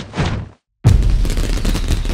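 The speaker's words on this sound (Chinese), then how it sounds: "后面呢一个镜头是烟花爆炸的声音" A fireworks explosion sound effect: a short rumble stops, then after a brief silence a loud, sharp burst arrives and trails off into dense crackling.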